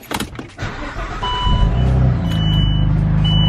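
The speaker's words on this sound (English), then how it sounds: "It's like a half cold start." A Nissan Turbo X car engine cranks and fires up from a half-cold start, then settles into a steady, rumbling idle close by, with a brief high electronic tone on top.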